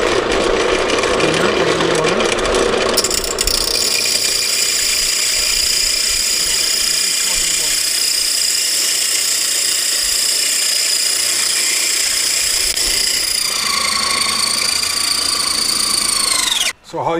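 A loud machine grinding worm bin material runs steadily and close, its harsh broadband roar and high whine holding for about fifteen seconds before winding down abruptly at the end.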